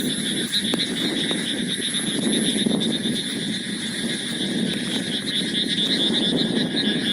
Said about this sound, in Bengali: এই ঝিঝি পোকার আওয়াজ এবং ব্যাঙের আওয়াজ